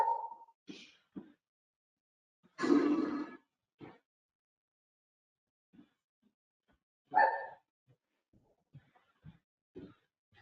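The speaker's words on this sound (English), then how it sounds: "Sorry about that. That's my dog." A dog barks a few times indoors during a work-from-home call, short sharp yaps separated by long quiet gaps, fairly close and moderately loud.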